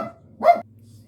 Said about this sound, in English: My neighbors stressing out my little dog.